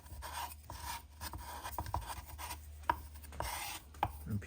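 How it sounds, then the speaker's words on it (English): Round file rasping the inside of a plastic model kit part, with quiet, irregular scraping strokes and occasional small clicks, close up with no talk. "get you a radial or a rounded file and deburr the inside, and then run the outside edge"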